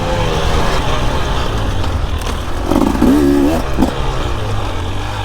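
2024 KTM 300 EXC two-stroke dirt bike ridden on a timed special test, a continuous engine drone with brief revs and clattering bursts near the middle.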